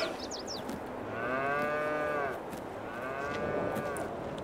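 Jersey cow mooing twice in long, drawn-out calls, close and clear over a light outdoor background.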